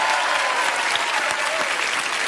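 Studio audience applause on a game show rings out steadily, a dense, loud wash of clapping that holds evenly throughout with no talking over it.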